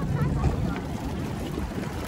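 Outboard-style motor of a tour boat heading across the water around Coron Island, a steady broadband drone mixed with wind and splashing, constant and close throughout.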